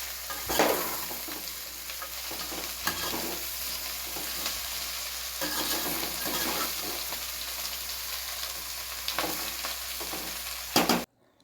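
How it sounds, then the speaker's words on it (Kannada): Fresh pumpkin pieces sizzle in a hot pan while being stirred, with a constant frying hiss broken by repeated scraping, rustling stirs, close and clear, ending abruptly. "ಹಾಗೆ ಫ್ರೆಶ್ ಆದ ಕುಂಬಳಕಾಯನ್ನು ಹಾಕಿ ಸ್ವಲ್ಪ ಹೊತ್ತು ಮಿಕ್ಸ್ ಮಾಡಬೇಕು."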